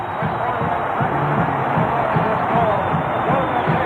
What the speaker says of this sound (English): this Tech crowd has gone berserk here